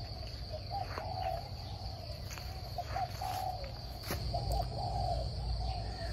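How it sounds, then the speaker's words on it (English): Outdoors in the morning, birds call with repeated whistled and hooting notes over a steady bed of insect chirring, all continuous and moderately loud, no voices. "Hear that bird song every morning."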